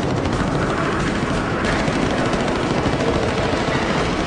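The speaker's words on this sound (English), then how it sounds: "A flight of 4 streaks in, lobbing cannon shells at long range before any of the Mustangs can engage." Cannon fire from attacking German Me 262 jet fighters during a World War II bomber raid, a loud, dense, continuous rattle of rapid shots over a roaring aircraft background, with no voices.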